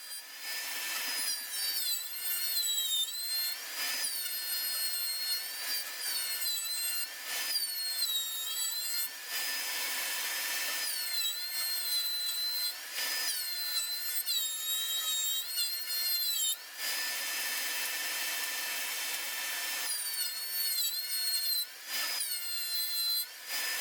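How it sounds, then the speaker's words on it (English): Hand plane shaving scrap pallet wood, repeated scraping strokes in a steady rhythm with brief pauses between passes, close and alone. "So enjoy this bit of planing."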